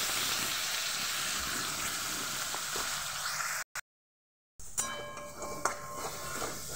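Onion paste frying in oil for a rohu fish curry, a loud steady sizzle and hiss that cuts out into brief silence partway through, then resumes with some stirring clatter.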